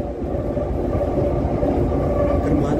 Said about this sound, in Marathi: ब्राऊन लाईन केप खालूनही 2 ट्रेन गेलेल्या आणि आमची ट्रेन वरून आली कदाचित.